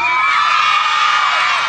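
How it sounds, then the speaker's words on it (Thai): A concert crowd cheers and whoops loudly and continuously, a dense wash of voices with scattered yells, close and sustained throughout. "ขอเสียงปรบมือดังๆให้กับ"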